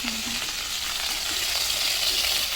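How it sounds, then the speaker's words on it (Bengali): Small tangra fish frying in a pan over a wood fire, a steady close hiss of sizzling oil that runs unbroken throughout. "এই যে 8 টাকা মাছ ভাজছি"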